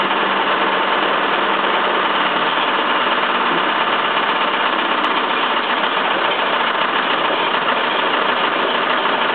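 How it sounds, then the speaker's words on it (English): A Bedini (Watson) machine motor runs on battery power alone at a constant speed, giving a steady, loud, unbroken whirring drone with no change in pitch or rhythm and no talk. "Now that the motor is used to that speed, I'm going to disconnect the start battery."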